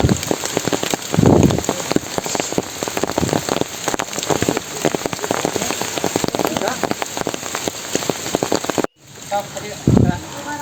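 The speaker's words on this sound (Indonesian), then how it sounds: "diguyur hujan" Heavy rain pours down on a mountain hiking trail on Gunung Malabar, a loud, dense, steady hiss of drops that continues nearly throughout and then drops out briefly near the end.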